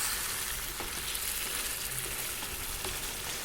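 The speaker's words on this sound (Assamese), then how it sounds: "দি মাংসখিনি ভাজি থাকিম।" Pieces of local chicken frying in a pan with a little added water for an Assamese-style curry, a steady close sizzle and crackle with faint stirring scrapes, no voices.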